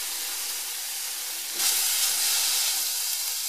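Beef mince hitting a hot pan with browning onions and garlic, a steady broadband sizzle that swells louder partway through as the meat goes in, with no talking.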